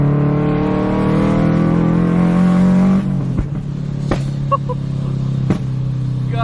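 Scion FR-S sports car engine accelerating hard from inside, a loud steady harmonic engine drone, then a shift with sharp pops and bangs over the lower running note.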